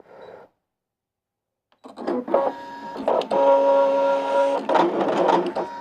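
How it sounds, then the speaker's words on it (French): A Brother ScanNCut cutting machine cuts out a design: after a brief voice and a short silence, a steady motorized whir with a sustained tone and intermittent mechanical clicks and shifts runs close and fairly loud. "il est en train de découper le haut de celle-ci"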